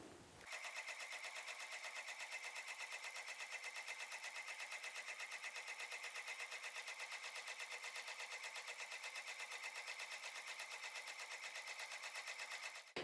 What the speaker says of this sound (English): I'm going to stick this in my machine, make sure that that's centered, and go ahead and stitch